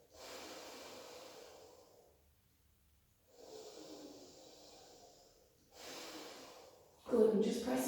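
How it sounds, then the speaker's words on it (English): Slow, deliberate breaths drawn in and pushed out through the nose during a yoga flow, three long airy swells separated by quiet pauses, close to the mic, ending as a voice begins speaking. "taking those inhales and exhales in and out through the nose"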